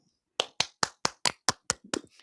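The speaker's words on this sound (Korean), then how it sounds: "여러분 환영의 박수 좀 부탁드릴까요?" Welcoming applause at a metaverse healing talk show comes as about eight distinct, evenly spaced hand claps, close and crisp, followed by a few softer trailing claps, with no talk.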